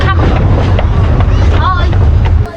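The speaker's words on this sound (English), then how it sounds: "It's got windy all of a sudden." Wind rushes and buffets against the microphone at a wildlife park train stop, a steady broadband roar running throughout with a voice faintly audible beneath it.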